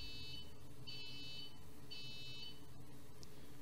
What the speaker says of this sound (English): So if we run this, the robot will beep 3 times.